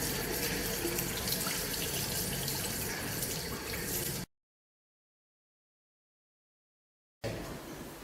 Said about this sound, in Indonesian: Sebelum melakukan pemeriksaan, maka kita akan melakukan cuci tangan dengan 6 langkah WHO.